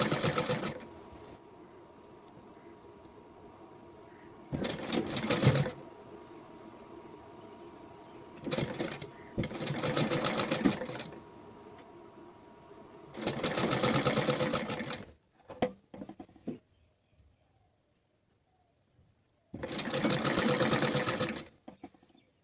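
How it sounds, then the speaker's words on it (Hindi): A sewing machine stitches the flat collar onto an A-line kurti in loud bursts of rapid whirring. About five runs of a second or two each are split by quiet pauses and brief clicks, with no talking. "बस रखकर आपको सिलाई लगाना है।"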